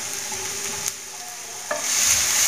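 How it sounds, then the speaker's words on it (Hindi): Crushed garlic and green chili frying in a pan for aloo paratha, a steady close sizzle with a couple of light stirring clicks, growing a little louder toward the end. "तो मैं इसे भून लेती हूँ।"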